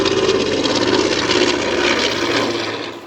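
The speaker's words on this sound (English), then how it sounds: "the planes are flying overhead" Aircraft drone overhead near a large fire in rural Portugal, a loud, steady engine roar with a slight propeller hum, no talking.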